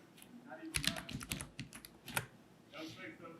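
Quick bursts of clicky keystrokes on a computer keyboard, close and fairly quiet, typing a short search word in an irregular patter.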